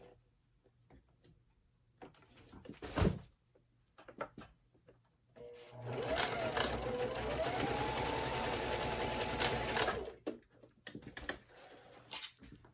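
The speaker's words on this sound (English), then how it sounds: "we're just going to top stitch right above the first cut line" A domestic sewing machine top-stitches a wallet in one continuous run of about four seconds, whirring close and steady. Scattered clicks and handling noises come before and after, with no talking.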